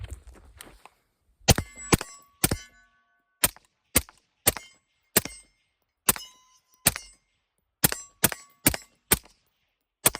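Suppressed rifle gunshots ring out one at a time, more than a dozen sharp reports in an uneven rhythm with some close pairs, each followed by a brief metallic ring and short decay.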